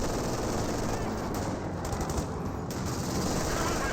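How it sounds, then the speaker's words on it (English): A captured MG42 machine gun firing in a World War II strategy game, dense continuous rattling bursts mixed into loud battle noise, sustained and close. "As Grenadiers making advances, get suppressed there by the captured MG42"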